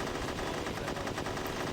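Rapid, continuous automatic gunfire is traded with a helicopter in the video game Unearthed: Trail of Ibn Battuta, a dense, loud, unbroken rattle that fills the whole moment.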